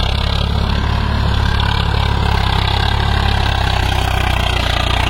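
Swaraj 744 FE tractor engine idling steadily, with a close, continuous low diesel rumble and no talk.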